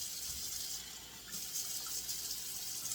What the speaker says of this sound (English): we just add the water.